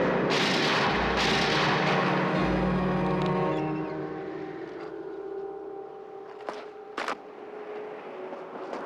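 Rifle shots fired at a target, opening with a heavy booming report and a second blast that roll out into a long reverberating tail, followed by two sharp, fainter cracks near the end.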